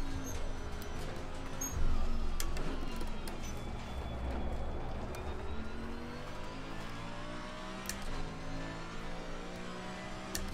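A racing car engine drones continuously in Assetto Corsa Competizione at Bathurst, a steady fairly quiet whine and rumble with slight rises in pitch as the car accelerates, no talk over it.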